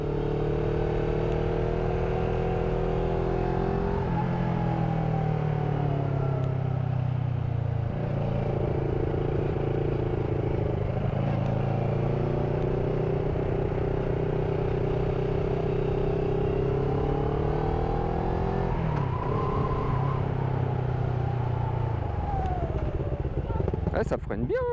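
A CFMOTO 650NK twin-cylinder motorcycle on the move, its engine humming steadily with rising and falling pitch as it accelerates and shifts, heard close from the rider's position under wind noise, while someone talks intermittently.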